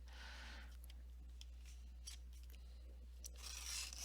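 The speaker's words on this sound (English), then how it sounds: "we're going to take dark yellow and we're going to give it a sharpen" A dark yellow colored pencil is sharpened with a soft grinding, scraping rasp in short bursts, close and quiet over a low steady hum.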